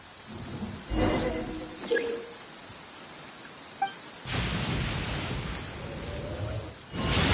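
Steady rain hiss with brief game-like effect blips, broken by a sudden louder burst of rainfall midway that continues to the end.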